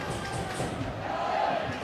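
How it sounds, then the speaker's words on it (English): Restless murmur of a football stadium crowd during a Kilmarnock versus St Mirren match, a dense, steady wash of distant voices with no single shout standing out. "You can hear the crowd, they're getting a little bit"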